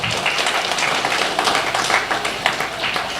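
An audience at an astrology talk breaks into sustained hand clapping, a dense patter of many claps that continues evenly for a few seconds at moderate loudness.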